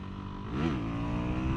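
A 2025 Suzuki DR-Z4SM motorcycle engine revs up and holds a steady, loud drone as the rider pops small wheelies, with the pitch rising and then settling.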